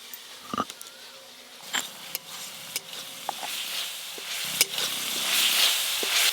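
Onion and garlic paste sizzling in a pan, a soft steady fry with scattered clicks and stirring scrapes, fairly faint and close, with no talking.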